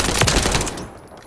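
Burst of rapid automatic gunfire from Call of Duty MW3 Team Deathmatch on the Highrise map, loud and close, a dense rattle of shots lasting under a second before fading into a short reverberant tail.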